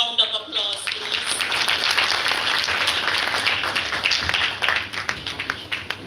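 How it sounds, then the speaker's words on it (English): An audience at a live Jamaican cultural performance bursts into dense, crackling applause, many hands clapping at once in a sustained, fairly loud wave with speech mixed in. "Can we give them another round of applause, please?"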